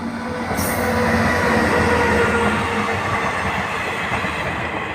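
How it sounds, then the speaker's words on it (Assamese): An electric train passes on a railway line at dawn, a steady loud rumble of wheels and carriages running throughout with faint squealing, no voices. "ট্ৰেইন আহিছে এইফালে চাব পাৰে"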